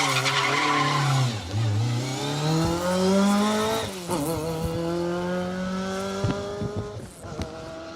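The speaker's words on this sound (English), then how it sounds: "Please bring Escort Cosworths out rallying. Especially ones that look and go like that." A Ford Escort Cosworth rally car powers along a Manx Rally 2023 stage, engine note rising and falling through quick gear changes with brief tyre scrabble, loud and close, then dropping away near the end.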